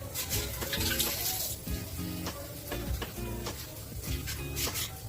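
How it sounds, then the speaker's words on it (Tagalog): Hands being washed under running tap water in a kitchen, a steady close splashing rush with rubbing swishes and occasional tonal clinks, no speech. "Hugas tayo ng kamay."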